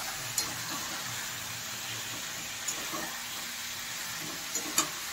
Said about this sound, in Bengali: এবার আমি পেঁয়াজ দিয়ে দিচ্ছি